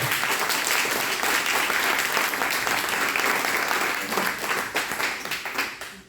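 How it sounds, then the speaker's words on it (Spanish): A church congregation applauds loudly and steadily for about five seconds, a dense wash of many hands clapping that tapers off at the end; a faint voice may sit underneath. "Dale un aplauso al Señor."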